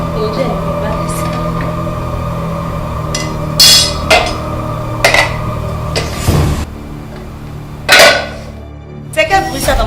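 Pots and pans clatter in a home kitchen as a series of sharp metallic knocks and clanks at uneven intervals over a steady humming background, with people talking nearby.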